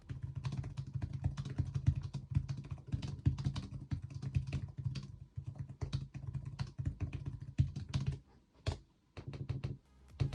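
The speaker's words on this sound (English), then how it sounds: "The keyboard actually feels pretty nice to type on" Typing on the detachable keyboard of an ASUS ROG Flow Z13 gaming tablet: quick, close, soft clattering keystrokes in steady bursts, with a brief pause near the end and no talking.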